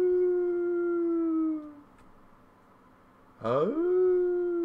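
A dog howls close by, one long steady wail that fades out, then after a short pause a second howl rises sharply and holds, with a brief spoken word in the gap.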